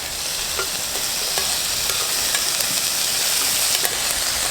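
Shrimp turned in a hot pan over an outdoor fire, frying with a steady close sizzle and a few faint scraping stirs, no voices.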